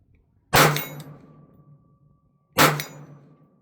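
Two sharp metallic shots from a Kel-Tec PMR30 pistol fitted with a stainless steel magazine, spaced about two seconds apart outdoors, each with a quick ringing decay.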